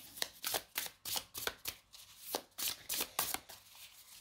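Gentle Earth Tarot cards being shuffled by hand in a steady run of crisp riffling bursts, close and clear with short pauses between them, no voices.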